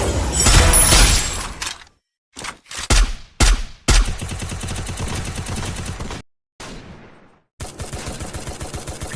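Loud, sharp gunfire from the video game Free Fire, including an AWM sniper rifle, comes in several bursts and single cracks separated by brief silences.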